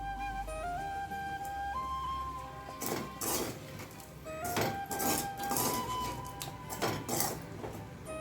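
Chana dal is stirred in a pan while cooking beans paruppu usili, with a spoon scraping and clinking against metal in scattered bursts under steady kitchen background noise and faint musical tones.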